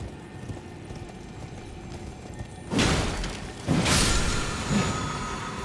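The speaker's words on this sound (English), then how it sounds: "Try horse. Time for horse." A horse gallops in the Elden Ring video game, its hooves clip-clopping in quick rhythmic bursts up close, with surges of louder galloping over faint game ambience.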